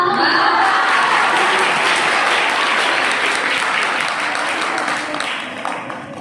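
A college audience at a poetry recital breaks into loud, dense applause, a sustained roar of many hands that fades slightly toward the end.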